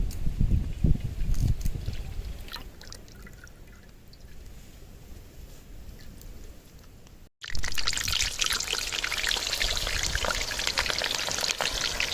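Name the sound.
pouring cooking oil into a pan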